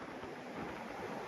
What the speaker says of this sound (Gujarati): જોઈ લો પાછળ મોજું આવે.